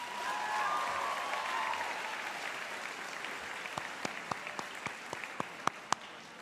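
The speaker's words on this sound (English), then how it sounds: "please give a big round of applause to your loved ones." A high school graduation audience applauds steadily, then the crowd sound fades and a few scattered, distinct claps ring out one by one near the end.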